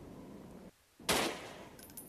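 Gunfire in the mobile shooter game Desert Wars: a faint game soundscape drops out briefly, then a single sharp burst of shots hits loudly and fades into a ringing tail.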